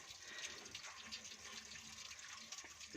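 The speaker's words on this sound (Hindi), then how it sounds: "तो ये आपको नीचे इसकी रेडिएटर के नीचे पानी निकालने वाली, इसको टूटी कहते हैं जी" Water drains from the radiator drain tap underneath a Suzuki Bolan, a steady hissing, gushing flow that is close and continuous throughout and carries no voices.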